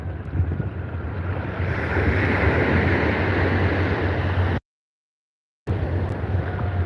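Choppy open water slaps and churns steadily against a boat in wind, with a rough continuous wash and buffeting broken by a short stretch of dead silence before the same water noise resumes.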